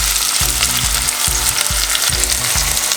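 White onion and peppers fry steadily in hot oil, a loud, close, continuous sizzle with no voices over it.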